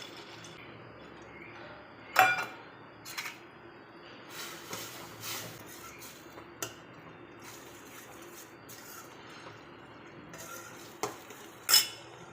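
Gathiya go into boiling masala in a pan and get stirred, with sharp spoon-on-metal clinks and scrapes scattered over a quiet background, louder knocks near the start and end.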